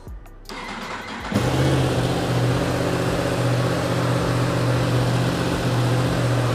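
A stock-exhaust 2024 Yamaha R1M sportbike cranks briefly and fires up from cold, then settles into a loud, steady, close idle with a low rumbling pulse.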